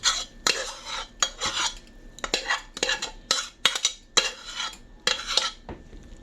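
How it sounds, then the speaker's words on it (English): A spoon scraping and stirring pot pie mixture with cut biscuits in a baking dish, a steady series of short clinking, scraping strokes close up with no talking. "Just mix it all together, like so. Mix your biscuits up in there too."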